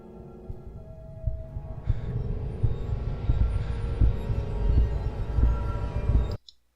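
A heartbeat sound effect in the film Alien Ore: steady low thumps pulse under a swelling, rumbling drone that builds and then cuts off abruptly.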